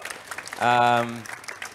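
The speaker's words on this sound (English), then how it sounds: "they deserve a round of applause" An audience applauds virtual artists at an awards ceremony for a blockathon, the clapping a short low wash around a loud sustained harmonic tone in the middle.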